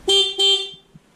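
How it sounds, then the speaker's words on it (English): Stock horn on a 2018 Yamaha Eluder GT motorcycle, sounded in two quick close toots, thin and car-like, followed by a faint click. "now I got this dinky horn that sounds like a little car"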